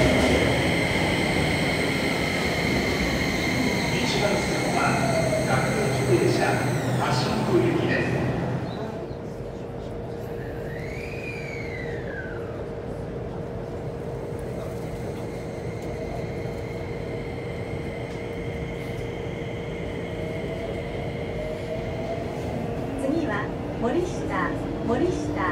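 Keio new 5000 series train with a Hitachi SiC inverter running on the Toei Shinjuku Line, heard from inside the car: a loud, steady rumble with whining motor tones that eases and settles into a lower cabin drone, with a faint rising-falling whine midway.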